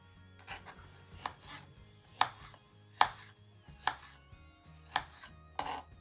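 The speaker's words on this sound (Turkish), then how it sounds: "İstediğiniz boyutta kesebilirsiniz." Knife chopping peaches on a board for a peach cream cake, about eight sharp close cuts at a slow irregular pace over a quiet steady hum.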